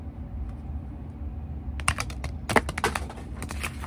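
A stack of cards being shuffled by hand, a short quiet pause followed by a rapid flurry of crisp riffling flicks and taps, close and fairly soft.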